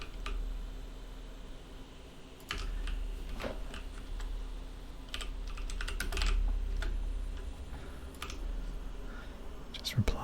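Computer keyboard typing during a World of Warcraft session, bursts of quick close clicks and key taps over a low steady hum, with faint soft-spoken talk in places.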